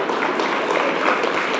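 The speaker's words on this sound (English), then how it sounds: "If we get applause, we'll stop every single time." An audience at a governor's speech applauds in a steady wash of clapping, dense and mid-distance, with no voices.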